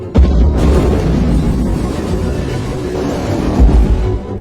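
A deep, rumbling bomb blast in a horror film scene, destroying a house, heard as a sustained low roar with crackling debris filling several seconds and a second heavy thump near the end.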